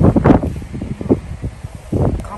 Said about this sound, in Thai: ลมแรงมากค่ะวันนี้ออสเตรเลียจะเป็นเงี้ยลมตลอดเวลาเลยอ่ะลม